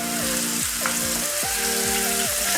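Chopped onions and green chilies with cumin frying in a pan for an Indian veg dish, giving a loud, steady hiss throughout with tonal notes sounding over it.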